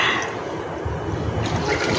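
Water poured steadily in a continuous rushing splash while cooking desi chicken curry on a wood-fired clay stove on a rainy day, close and fairly loud with no talk.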